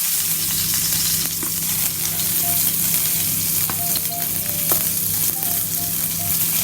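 Curry leaves crackle in hot oil with mustard seeds and cumin for an Indian brinjal fry masala, giving a loud, steady sizzle throughout with no talking.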